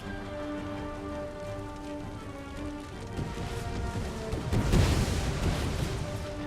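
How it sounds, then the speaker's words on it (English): Grenade explosions in the Empire Total War strategy game, a rumbling burst swelling midway over a steady wash of battle noise and crackle, with no voices. "Let's get as many grenades in there as possible."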